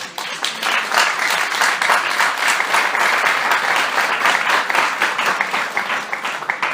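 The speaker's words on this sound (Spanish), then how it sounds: "Denle un aplauso al Rey." A church congregation breaks into sustained applause, dense and steady clapping from many hands filling the room for several seconds before tapering slightly.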